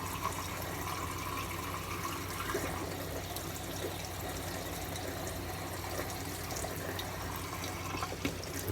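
Tap water running steadily into a sink for rinsing after a shave, a constant close hiss and splash with no talk.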